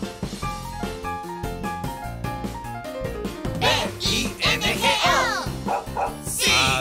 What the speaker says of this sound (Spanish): Había un granjero que tenía un perro y se llamaba Bingo